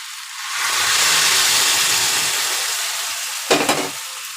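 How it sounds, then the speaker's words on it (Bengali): Hot water is poured into a pan of vegetable curry made with chilli and turmeric. It sets off a loud, steady hissing sizzle that swells and then slowly fades, with a brief clatter of utensils near the end. "এবার গরম জল দিয়ে দেবো।"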